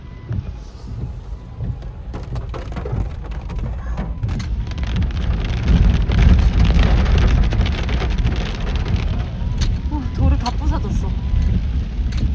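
Heavy rain pours steadily during a flood in Australia, a dense continuous wash that swells slightly midway, with people talking over it.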